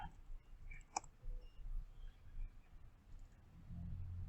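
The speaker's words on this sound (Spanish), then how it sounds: "Voy a dar doble clic." A computer mouse gives a quick double click, a sharp pair of close clicks standing out against quiet room noise with no talking.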